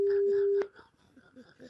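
A single steady telephone ring tone sounds on a call to a listener in Vitré, Ille-et-Vilaine, heard clearly for about half a second before it cuts off and quiet talk follows.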